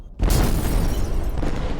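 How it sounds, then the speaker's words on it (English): Warehouse storing British guns and ammunition blows up in a deep, loud boom that rolls into a sustained roaring rumble, with no talk over it. "In no time, the warehouse exploded."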